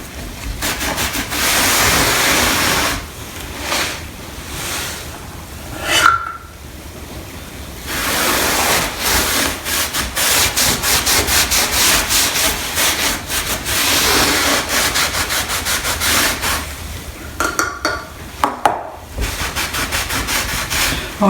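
A rag rubs stain across wooden barn door boards with the grain in long, steady scrubbing strokes, a continuous close swishing friction broken by a few short pauses.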